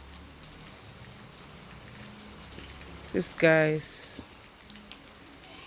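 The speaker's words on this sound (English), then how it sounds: "it's raining, guys, it's raining" Outdoors at a site where concrete well rings are installed, a light rain shower patters as a soft steady hiss, while a voice speaks briefly over it partway through.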